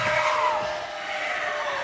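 A wrestling crowd at a tag team championship match cheers and yells in a continuous, fairly loud roar that eases slightly after the first half second.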